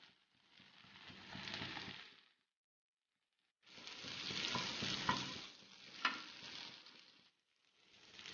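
Fish frying in a pan, crackling and spitting in bursts that stop and start with short silent gaps, close but fairly quiet, no voices.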